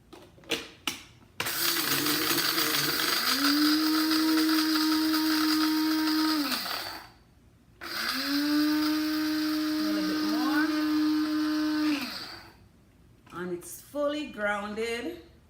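A blender grinds flaxseed, pumpkin seeds and chia seeds for a breakfast smoothie in two steady whirring bursts of about five seconds each. The motor spins up and winds down each time, and brief speech is heard at the start and end.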